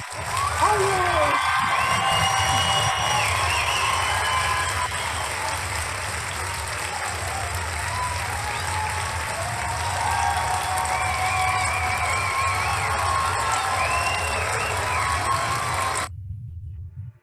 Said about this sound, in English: that's some major cheering